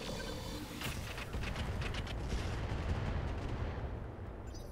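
Mech weapons fire in the video game Roguetech, a loud continuous barrage of overlapping booms and crackling impacts with repeated sharp bursts, sustained throughout without talk.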